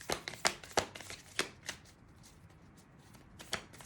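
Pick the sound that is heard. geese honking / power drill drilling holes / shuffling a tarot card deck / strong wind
shuffling a tarot card deck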